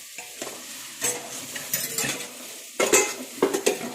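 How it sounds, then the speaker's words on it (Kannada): Spoon stirring coriander powder, turmeric and other spices in a pot for mutton biryani: scraping and clinking of metal on metal with a soft sizzle underneath, in irregular close strokes. "ಚೆನ್ನಾಗಿ ಮಿಕ್ಸ್ ಮಾಡ್ಕೊಳ್ಳಿ"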